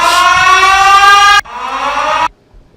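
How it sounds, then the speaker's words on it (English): A loud wailing police car siren with strong harmonic tones sounds continuously, then drops in level and cuts off abruptly near the end. "You hear them cop sirens."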